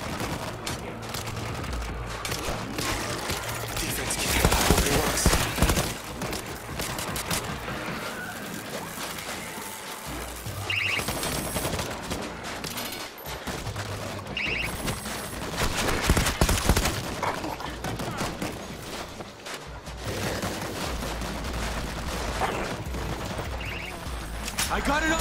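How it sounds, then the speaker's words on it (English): An auto turret in World War Z Aftermath's Kamchatka level fires in long, dense bursts of rapid gunfire that swell and fade, with shouting voices over the clatter. "Auto turret is set!"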